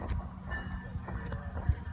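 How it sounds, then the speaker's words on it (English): A Metrolink commuter train passing near a trail crossing, a low steady rumble with faint rail squeal and occasional clanks, moderately distant and fairly quiet. "And there's the Metrolink coming by."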